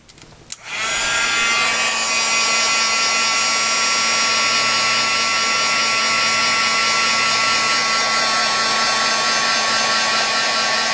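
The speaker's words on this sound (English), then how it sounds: "let's blow dry this a little bit" After a brief click, a hair dryer blowing gesso dry on a journal cover switches on and runs as a steady, close, loud whine with a constant tonal hum.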